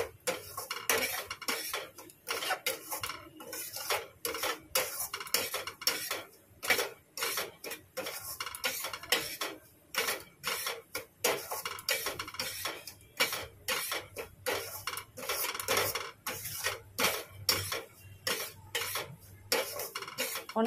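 Semolina is roasted in plenty of ghee in a pan until reddish. Rapid, continuous scraping and clinking of a spoon against the metal pan runs fairly quietly throughout, with no talking.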